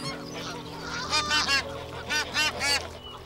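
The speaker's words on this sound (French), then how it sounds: "Une autre famille de voyageuses, mais celles-ci sont des oies américaines." Canada geese honk loudly in a quick series of calls at a pond in Paris, several blasts close together over a low background hum.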